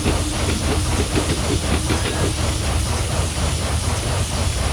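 A BR18 steam locomotive on the Koblenz to Trier line in Train Simulator, hissing with a broad, steady rush of steam over rhythmic chuffing and rumbling, loud and continuous throughout with no talking.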